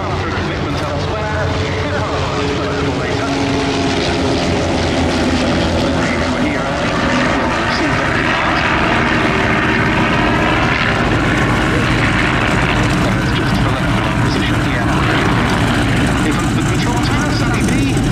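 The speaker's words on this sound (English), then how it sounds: "we're going to be bringing the two Strike Masters from North Wales Military Aviation Services back in after a commitment elsewhere" Two BAC Strikemaster jet aircraft fly at the Duxford summer air show, producing a loud, sustained engine roar that stays steady for the whole stretch, with a public-address voice talking over it.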